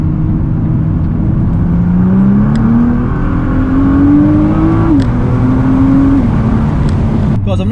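A salvage-rebuilt Nissan GT-R accelerates hard on a test drive, heard from inside the cabin: a loud, steady engine roar whose pitch climbs through the revs, dips at a gear change, then rises again.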